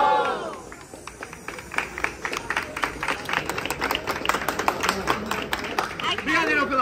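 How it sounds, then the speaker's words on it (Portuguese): Audience applause and scattered cheering at a Brazilian rap battle in Itaquera, steady clapping from a crowd with voices shouting over it, building louder toward the end. "Obrigado pelas palmas."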